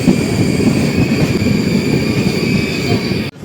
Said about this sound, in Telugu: ట్రైన్ అయితే ఇప్పుడే పుత్తూరు రైల్వే స్టేషన్లోకి ఎంటర్ అవుతుంది.